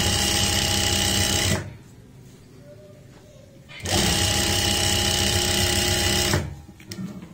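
A sewing machine runs in two loud, steady bursts while stitching a palazzo seam, topstitching over a turned fold; a short quiet gap with faint voice sits between them, and it starts up again briefly at the end.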